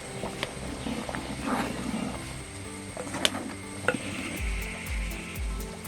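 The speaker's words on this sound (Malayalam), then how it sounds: "അരപ്പൊക്കെ നന്നായിട്ട് തിളച്ചു" Fish curry masala simmering in a covered pan: a soft bubbling sizzle with a few sharp lid or utensil clicks and low thumping bursts near the end, close and fairly quiet.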